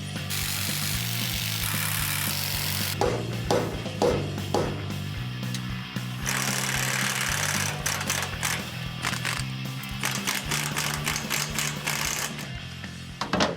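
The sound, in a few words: cutting off seized leaf spring bolts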